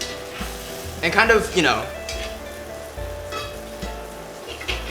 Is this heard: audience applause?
no